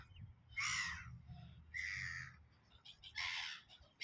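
Loud, harsh bird calls ring out in three bursts with pauses between them, over a low background rumble.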